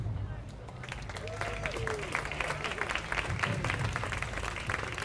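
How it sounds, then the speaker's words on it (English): A crowd of about two thousand at a rally applauds in a dense, continuous wash of clapping, with cheering and crowd murmur underneath throughout. "Give yourselves a big round of applause."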